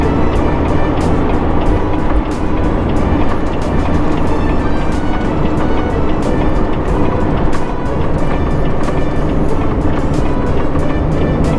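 A semi truck's engine pulls steadily on a snowy road through a snow shed, a loud continuous drone and road roar with no clear pause, the gear change blending into the constant rumble.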